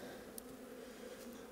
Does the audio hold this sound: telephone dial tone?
no